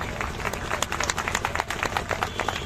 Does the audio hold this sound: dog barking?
no